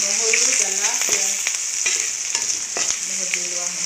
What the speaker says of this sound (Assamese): ভাজি লোৱা হৈছে দেই